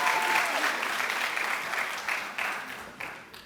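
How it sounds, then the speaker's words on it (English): Audience at a spring master's hooding graduation ceremony applauds, a broad, sustained clapping across a large hall that slowly tapers off, with a few louder claps standing out near the end. "can we give them a round of applause?"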